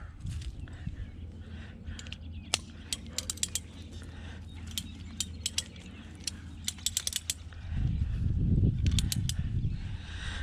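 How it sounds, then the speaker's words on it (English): Trellis wire is pulled through and tightened, giving a run of mechanical ratcheting clicks and creaks over a low rumble, with a heavier grinding strain near the end and no talking. "I'm just gonna pull it through these now. And tighten some more."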